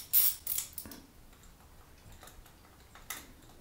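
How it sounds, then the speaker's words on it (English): A few sharp metallic clicks and ticks from a hand tool backing out the mounting bolt of a motorcycle thermostat during a billet thermostat install, loud at first and then sparser against a quiet workshop background. "Now we just take out the mounting bolt."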